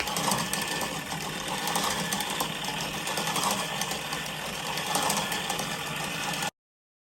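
An electric yarn winder running steadily, a continuous close mechanical whir and buzz that holds at an even level for several seconds before cutting off abruptly, with no talking.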